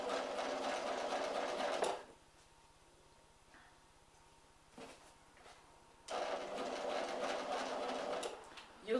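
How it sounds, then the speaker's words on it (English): A sewing machine stitches binding onto fabric along a curve, a loud rapid steady hum of needle strokes that stops for a few seconds of near quiet with faint handling, then starts again close up. "I always stop the machine with the needle through the fabric for this"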